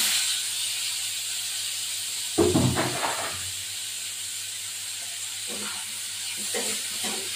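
Potatoes fry in a pan with a continuous hissing sizzle, and a short clatter of a utensil cuts in partway through.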